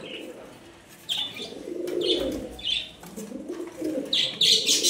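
Pigeons coo in low, rolling bursts, several calls overlapping nearby, with occasional higher chirps and a brief flutter of wings.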